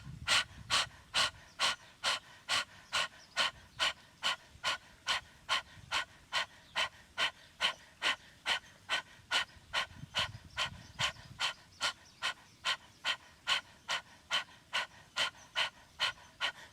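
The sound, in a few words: rapid forceful breathing, snapping belly in during yoga breathing exercise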